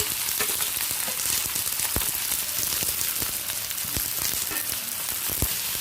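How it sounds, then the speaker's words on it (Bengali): Chopped onion sizzling in hot mustard oil over a medium-high gas flame, a steady dense frying crackle that carries through without a break, with a few sharper pops, close and fairly loud, no voices. "তেলটা গরম হয়ে গেছে এরপর দিয়ে দিচ্ছি কুচানো পেঁয়াজ"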